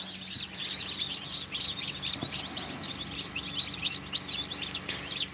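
Many small chicks peep continuously in a close, busy chorus of high, rapid chirps while they sit warming before being moved to a brooder, with faint low background hum.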